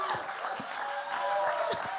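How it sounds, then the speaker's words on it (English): Audience applause at a live music show in a London venue, fairly faint and blended with background music tones and crowd noise. "Round of applause"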